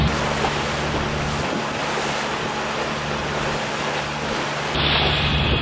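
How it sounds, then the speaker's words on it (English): Wind and swells buffet a boat on the Intracoastal Waterway ahead of a stretch of rough water, a steady, loud broadband roar of gusts and wave wash with a low engine hum beneath, no voices. "Well, the winds have kicked up, and we got to about 10 miles of swells to go through"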